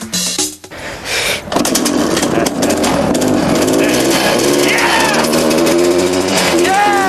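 A snowmobile engine revs in a home-built dune buggy made from a garden tractor, giving a loud, buzzing roar that rises in pitch, with someone talking over it.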